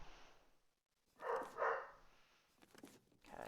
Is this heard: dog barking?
yes